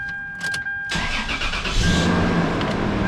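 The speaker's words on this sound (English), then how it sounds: "first we're going to start up the engine" A 1999 Toyota 4Runner engine cranks briefly and catches, then settles into a steady, close idle that runs to the end, with a few dashboard chimes before the start and no talk.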